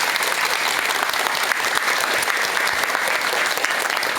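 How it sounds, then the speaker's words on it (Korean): Steady, dense applause from a lecture audience welcoming a Buddhist monk to the stage, filling the whole moment loudly and evenly with no voices over it. "여러분 큰 박수와 함께 회일 스님의 강연 지금부터 청해 듣도록 하겠습니다."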